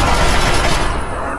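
A Chinese assault rifle fires in Fallout 3, a dense loud burst of rapid automatic shots filling the short moment.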